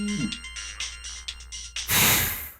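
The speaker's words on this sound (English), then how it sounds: "my phone rang" A mobile phone rings at night with a melodic electronic ringtone, repeating short tonal phrases up close, followed by a brief burst of breathy rustling noise.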